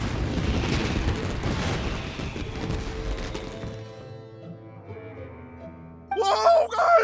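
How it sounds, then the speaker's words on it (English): Dense rumbling booms and crackling bursts of fireworks in a video game fill the first few seconds, then fade into a lingering tonal ring before a character's voice cuts in near the end. "Euthymia, this is turning into a bit of a fireworks display."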